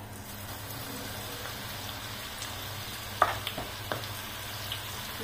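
Okra coated in gram flour masala fries in hot oil with a faint, even crackle and a few louder pops clustered partway through.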